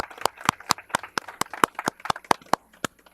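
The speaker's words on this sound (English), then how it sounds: "Let's give her a round of applause." Applause at a women's commission board meeting, a sparse, loud patter of distinct hand claps from a small group, near and crisp, without a dense crowd roar.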